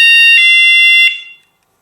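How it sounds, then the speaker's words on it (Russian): A Kerui alarm siren blares loud electronic tones, switching pitch pattern twice in quick succession before cutting off and ringing out briefly into silence. "Однократное нажатие на нижнюю кнопку настроек приведет к изменению мелодии сирены."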